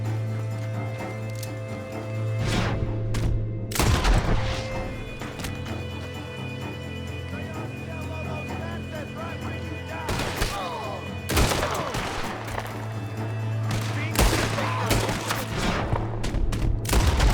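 Gunfire in Red Dead Redemption 2, a western game, with bursts of shots around 2–4 s and again from 10–16 s over a steady mechanical hum, some volleys rapid and layered like a fusillade, with no talk.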